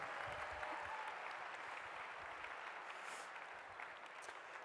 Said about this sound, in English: Ladies and gentlemen, nice round of applause for our Bernoulli kids.